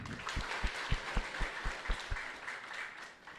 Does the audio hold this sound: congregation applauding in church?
yes